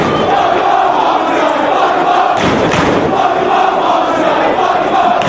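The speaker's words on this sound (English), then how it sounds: "Listen to this crowd in Dayton." A loud wrestling arena crowd in Dayton roars continuously, with a swelling burst of shouting and cheering midway, dense and sustained throughout.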